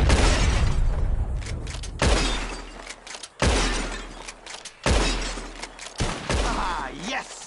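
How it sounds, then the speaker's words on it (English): Gunshots in Red Dead Redemption 2 shatter bottles, four or five loud sharp cracks spaced about a second apart with glass bursting, under a steady outdoor backdrop. "Whoever shoots more of these bottles wins."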